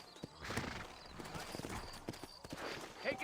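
Horse hooves clip-clop on a town street in the video game Red Dead Redemption 2, quiet irregular clopping with a faint whinny, under low background voices.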